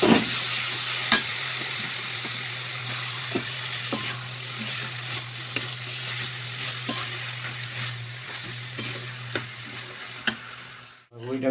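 Large-cut cabbage and potatoes stir-fry in a pan for a vegetarian Bengali dish, with a steady low sizzling hum, intermittent spatula clicks and scrapes, and a sudden stop at the end.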